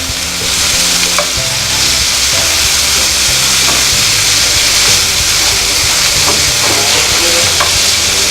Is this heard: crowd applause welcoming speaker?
no